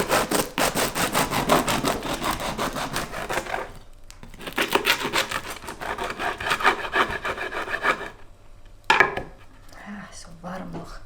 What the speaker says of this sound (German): Ich schneide jetzt mir so eine Scheibe ab.